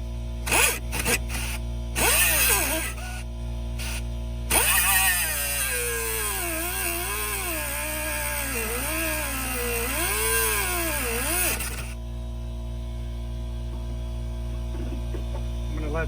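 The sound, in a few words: air compressor running and building up pressure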